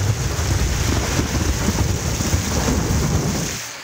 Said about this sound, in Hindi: आसमान पर बिजली की कड़क और बादलों की गरज।